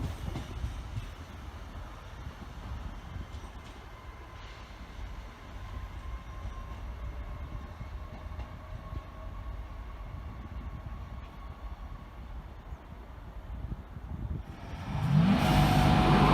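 A train passing through Grantham station on the line toward Peterborough, a steady low rumble of wheels and carriages holding throughout, swelling louder and brighter near the end as it draws close.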